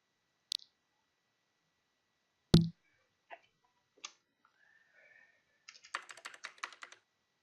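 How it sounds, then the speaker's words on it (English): Scattered keystrokes on a computer keyboard while writing Linden Scripting Language code, a few isolated taps followed by a quick burst of rapid typing, close and fairly quiet. "Typing chat again."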